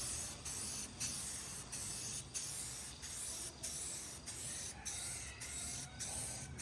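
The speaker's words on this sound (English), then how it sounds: "Started priming this with self-etching primer." Self-etching primer sprayed from a can onto the bodywork of a '92 Firebird, a steady close hiss broken by about a dozen brief regular pauses between passes, with no talk.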